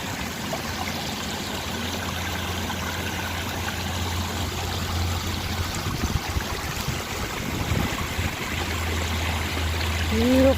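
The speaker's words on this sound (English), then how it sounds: "Beautiful water feature." Steady trickling and splashing of water from a garden water feature near a hillside with a kids' playground, continuous and fairly close, with a brief tonal sound at the end.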